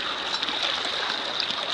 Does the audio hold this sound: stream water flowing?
yes